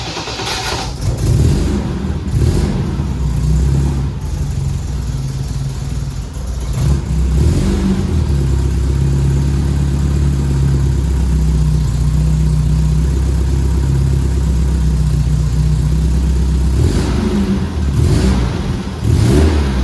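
An MGB that sat unused for ten years cranks and fires, its engine revving unevenly with a few throttle blips before settling into a loud, steady, close-up idle that runs on without talk.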